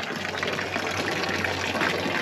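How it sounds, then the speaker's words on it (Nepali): Water gushes continuously from traditional carved stone spouts near Bajrayogini Temple, making a close, loud and even rushing splash with no break and no talk. "ल गाइज यहाँ ढुङ्गे धाराहरू पनि टन्नै छ है"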